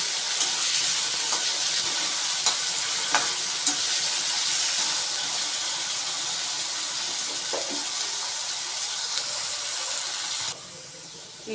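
Food fries in a pan over a flame, a steady bright sizzle and hiss close by with faint scrapes of stirring, no voices, cutting down abruptly near the end.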